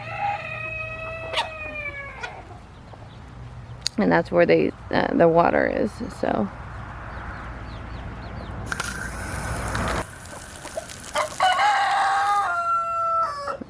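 Roosters crow and hens cluck on a farm, the calls rising in bursts near and far, with a person talking over parts of it and some rustling around the birds.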